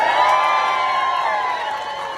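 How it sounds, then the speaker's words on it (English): Political rally crowd cheering, whooping and applauding together in a loud, sustained burst that fades slightly toward the end. "By show of applause and screaming enthusiasm"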